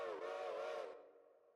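Short steam-type locomotive whistle on a working railroad, one loud, clear blast of about a second that fades quickly with no talk.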